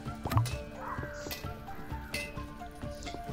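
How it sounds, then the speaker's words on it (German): Horses outside in the Shadow Legend VR game: soft hoof clops and a distant whinny, set amid low ambient noise and faint background fighting. "Da draußen sind Pferde und da kämpft jemand."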